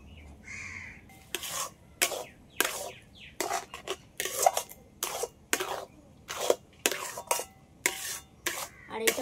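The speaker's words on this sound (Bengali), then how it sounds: "উনুনটা জ্বালিয়ে নিয়েছি, আবার কড়াইটা বসিয়ে দিচ্ছি" A metal kadai is set on a lit stove to cook palm fruit pulp, with a run of sharp clanks and scrapes from utensils at irregular intervals and a faint bird caw early on.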